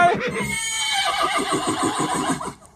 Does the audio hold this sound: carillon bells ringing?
no